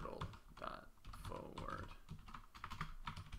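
Rapid, steady clatter of typing on a computer keyboard while entering Python turtle commands, close and continuous with no talking.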